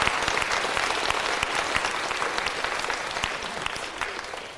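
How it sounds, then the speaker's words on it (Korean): A church congregation applauds hard and steadily, a dense, loud wash of clapping that holds for several seconds and fades slightly toward the end, with no voices standing out. "계속 강력으로 박수를 치라고"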